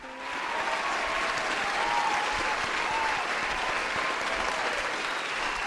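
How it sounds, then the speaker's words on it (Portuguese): Applause in Alan Wake 2 rises quickly into dense, sustained clapping from a crowd, loud and steady without a break to the end. "Uma salva de palmas para os envolvidos, por favor."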